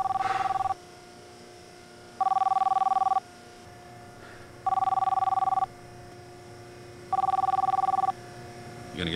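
A phone rings in a room, three evenly spaced electronic ring bursts with pauses between them over a quiet hum.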